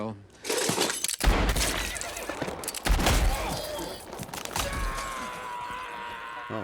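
Gunfire and bullet hit effects from the film Django Unchained, sharp bursts of shots and cracking, shattering impacts in quick succession, mixed with voices and music.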